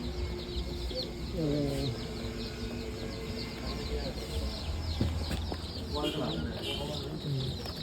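Chickens at a farm, newly arrived birds alongside local and broiler breeds, keep up a dense, continuous cluck and chirp that sounds close and steady throughout, with people's voices audible underneath.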